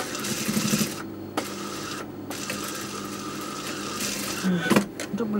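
A sewing machine stitches in a circle around a garment neckline, its needle chattering in a fast steady mechanical run with brief pauses between bursts, heard up close.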